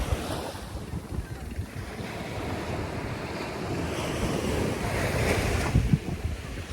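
Ocean surf at a free public beach in Bukana, Batangas, waves washing ashore continuously amid gusty wind buffeting the microphone, no talk.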